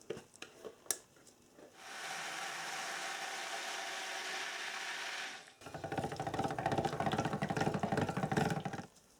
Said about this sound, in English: Then we're going to use our stick blender to bring it all just past emulsion.